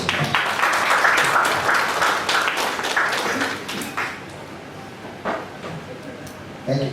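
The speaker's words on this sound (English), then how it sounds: "Let's have a round of applause" Audience members at a professional study circle meeting clap together in a brisk burst that tapers off within a few seconds, leaving a few scattered claps and room noise.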